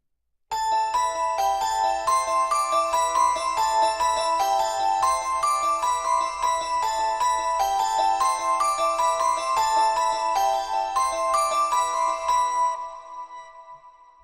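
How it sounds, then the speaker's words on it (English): A bright bells synthesizer patch from Xpand 2 in Pro Tools plays a repeating ostinato melody of clear, ringing chime-like notes. It runs alone with no voices and fades out at the end. "this is a bright bells patch"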